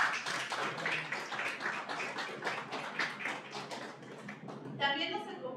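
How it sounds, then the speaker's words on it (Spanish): An audience gives a round of applause, a run of brisk, fairly even claps for about four seconds that fade before a voice starts speaking near the end. "Démosle un fuerte aplauso, por favor."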